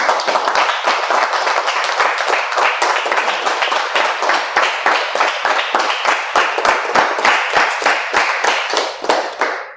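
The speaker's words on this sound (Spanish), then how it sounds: "Dile ese fuerte aplauso, papito Dios." A church congregation applauds with loud, rhythmic clapping that settles into steady synchronized beats, close and continuous for about ten seconds and tapering at the end.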